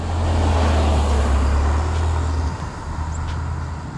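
A white 2012 BMW M5 F10 with its 4.4-litre twin-turbo V8 and factory exhaust, a steady, subdued low engine drone heard up close that eases slightly partway through, with faint road noise.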